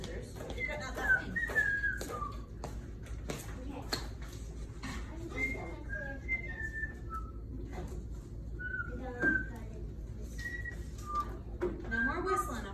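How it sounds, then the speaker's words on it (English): Someone whistles a short, wandering tune in bursts of high notes, fairly faint, with background movement and occasional soft talk. "No more whistling, okay?"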